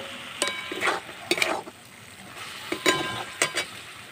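Pieces of chicken go into a pan for an oil-free chicken kosha and get stirred, giving several close, brisk scraping and rustling strokes in irregular bursts over a light background sizzle, with no talking.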